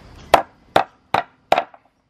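A hatchet splitting scrap lumber is struck with wood four times, sharp, evenly spaced woody thwacks, each a crisp knock that dies away quickly.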